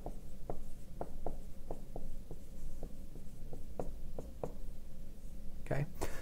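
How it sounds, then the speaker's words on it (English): A marker or chalk writes on a board during a physics lesson on displacement. Steady, evenly spaced tapping strokes run throughout at a quiet, close level, followed by a brief louder knock near the end. "let me write that out a little bit bigger over here"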